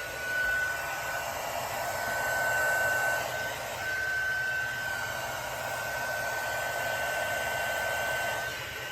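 A heat tool blows steadily on the epoxy coating of an alcohol ink tumbler, a continuous airy whoosh with a faint whine, close and moderately loud, swelling slightly as it moves.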